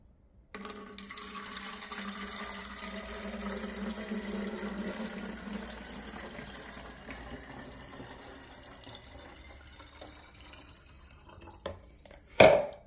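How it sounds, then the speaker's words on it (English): Water pours steadily into a plastic washer reservoir for a Honda CR-V backup camera mod, a close, even trickle for about ten seconds that fades, then a brief clunk at the end. "Okay, let's add water to the container."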